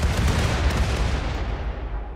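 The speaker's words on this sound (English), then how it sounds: "Here we are, firing. A mortar volley." A mortar volley fires in the video game RimWorld, a dense burst of heavy booming blasts that rumble together loudly and then fade into a thinning low tail.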